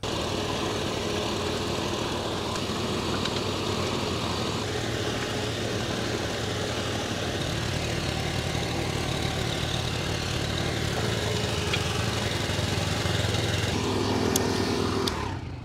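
A tractor pulling a plough through soil to mix lime into the ground before planting radishes, a steady close engine drone running continuously without pause and with no talk.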